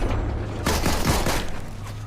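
Gunfire aimed at a boss in the video game Fortnite comes as a loud burst of rapid, crackling shots with a heavy boom in the middle, up close and without talk.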